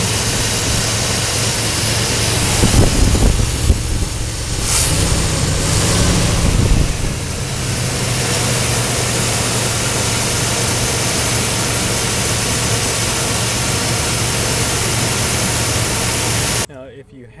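A 1987 GMC Jimmy engine runs steadily after a tune-up, a loud, close, continuous droning idle with a low hum that holds unbroken to the end.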